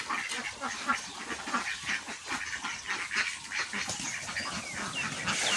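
Many ducks quack continuously in a dense, overlapping chorus nearby as they go into water on a garden farm in the morning, with a soft noisy background and no voices.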